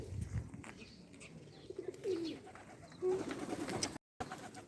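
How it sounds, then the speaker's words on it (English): Pigeons cooing in a soft, low, repeated burble on a sunny day in wartime Ukraine, with faint background ambience and a brief dropout near the end. "She is surprised to see the pigeons."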